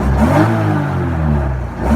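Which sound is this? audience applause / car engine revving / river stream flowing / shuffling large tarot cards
car engine revving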